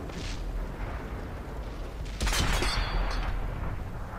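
A tank cannon fires in World of Tanks, a loud booming blast over a steady rumbling engine bed, then a decaying roar that lingers for a couple of seconds.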